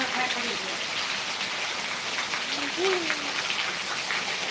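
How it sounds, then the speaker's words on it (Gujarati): Steady rain hisses throughout, a dense broadband wash with faint voices murmuring underneath. "દીકા શું છે વરસાદ આવે છે"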